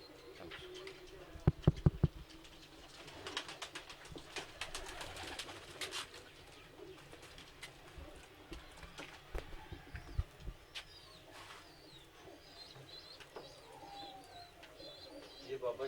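Pigeons kept for competitive flying, gathered at a Pakistani pigeon-keeping spot, give soft low cooing amid scattered wing flaps and handling noises, with people talking nearby throughout.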